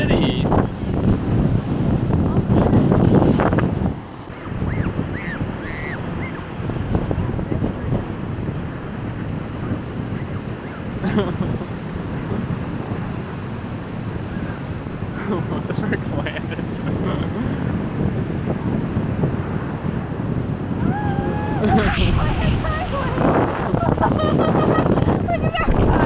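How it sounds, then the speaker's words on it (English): Strong gusts buffet an outdoor microphone at a Chicago location, a loud continuous low rumble and roar throughout, with brief voices breaking in now and then. "It's so windy. It's so windy."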